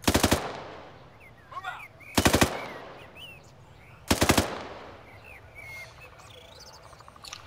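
Three loud bursts of machine gun covering fire in a military video game, each a rapid rattle lasting under a second, separated by quieter gaps with faint chirping ambience.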